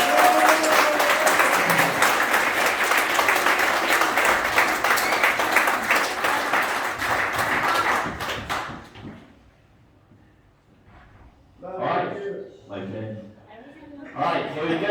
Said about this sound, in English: so can we have a round of applause for everyone,